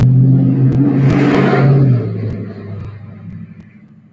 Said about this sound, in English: Thursday night drag racing. Neighborhood.